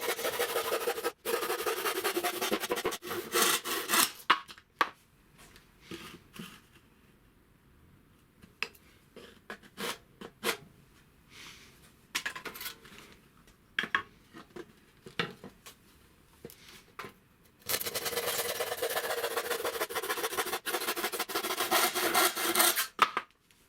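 Pieces of wood being cut with a hand saw for a locker shelf, with steady rasping strokes at the start and again near the end, and sparse knocks and handling noises in the quieter middle stretch.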